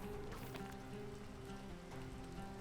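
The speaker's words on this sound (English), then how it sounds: "stop raining, please stop raining, stop raining!" Steady rain falls in the climbing video game PEAK, a dense continuous hiss with faint patters, fairly loud and unbroken, with no voices over it.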